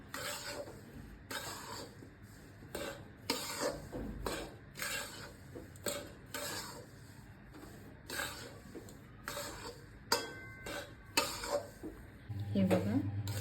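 Gram flour being roasted in ghee in a pan for besan laddoos, with repeated scraping and stirring of a spoon against the metal pan and occasional clinks, close by and fairly quiet.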